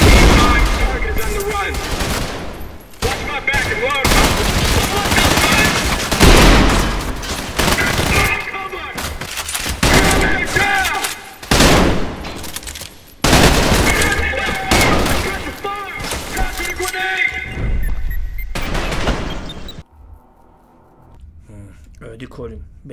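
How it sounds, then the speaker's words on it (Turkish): Rapid, sustained gunfire from shooting enemies in the first-person shooter Trepang 2 on PlayStation 5 Pro, loud bursts and volleys nearly filling the stretch before fading to quieter game sounds near the end, with game voices and talk mixed in. "her kafasına sıkıyorum olmuyor ya"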